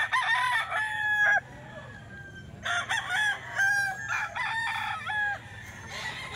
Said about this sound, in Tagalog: Gaganda ng manok oh